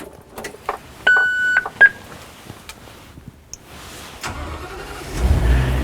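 A bus engine starts up after a few beeps and clicks, with the starter catching near the end and the engine settling into a low, steady rumble close by, no voices.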